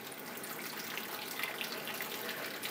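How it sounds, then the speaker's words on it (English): Tap water runs steadily into a small film-developing tank for black and white film, a constant broad rushing splash without pauses, fairly close and alone with no talking. "Turn on the water, and it's going to take this thing somewhere in the vicinity of about 10 to 12 seconds to fill up"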